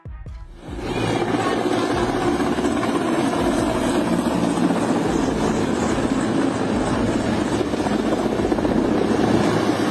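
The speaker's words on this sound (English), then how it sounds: "A Mexican Navy helicopter involved in storm relief operations was forced to make an emergency landing" A Mexican Navy helicopter drones loudly and continuously, its thumping rotor and engine noise filling the whole stretch at close range.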